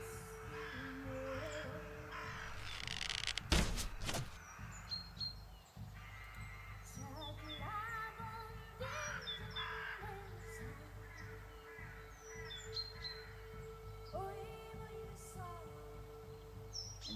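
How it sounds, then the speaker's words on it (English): Birds call outdoors in a quiet wilderness setting, with scattered chirps and caws over a steady ambient hum. A loud whinny-like animal cry stands out early on, and no one speaks. "as the call of birds drift off"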